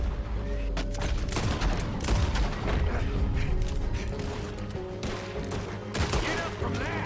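A shootout in Red Dead Redemption 2 produces dense, loud gunfire, overlapping rapid shots and booms with mechanical clacks, continuous throughout and mixed with indistinct voices.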